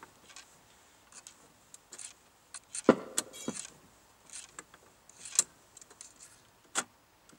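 A BSR UA70 record changer mechanism, set to auto and turned by hand, gives off a string of quiet, irregular mechanical clicks and ticks with a few sharper clunks, with no voices.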